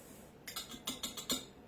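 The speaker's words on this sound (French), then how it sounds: "Donc on va juste mélanger ça un petit peu." A utensil mixes granola spices and salt in a bowl, making about five soft, quick clinks and taps close by. There are short pauses between the taps and no talking.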